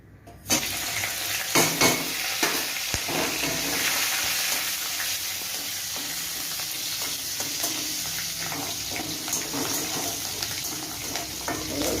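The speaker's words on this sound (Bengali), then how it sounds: "এবার এই তেলেই আমি একটুখানি তেল দিয়ে এর মধ্যে ফোড়ন দেব হচ্ছে 5 ফোড়ন আর শুকনো লঙ্কা আর কাঁচা লঙ্কা" Panch phoron spices with dried and green chillies frying in hot oil in a home kitchen, a steady close sizzle with occasional stirring clinks and crackles, no talking.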